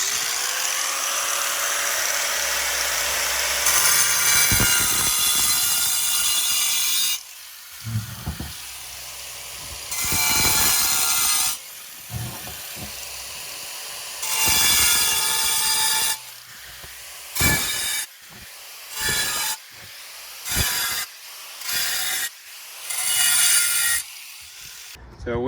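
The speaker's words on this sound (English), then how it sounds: "I'm going to take the angle grinder and I'm going to take the blade on a side and I'm just going to kind of move around" Angle grinder cutting a round hole in ceramic tile, the blade run on its side around a marked circle: repeated loud bursts of grinding and scraping, long at first then shorter spaced passes, with brief pauses between and no talk.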